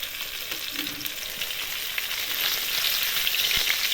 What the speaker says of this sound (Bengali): সাইড মাছে ভালো করে ভেজে নিতে হবে